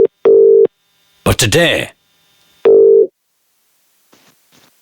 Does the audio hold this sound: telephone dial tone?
yes